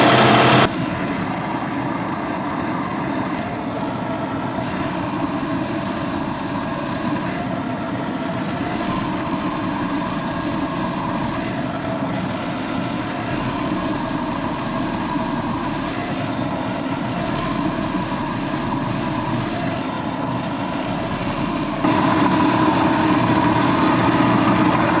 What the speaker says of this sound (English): Now back to more of my favorite stuff, sanding.